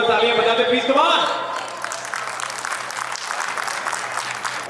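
A voice speaks briefly, then a crowd of guests at a wedding sangeet breaks into steady applause that carries on, dense and fairly loud, to the end.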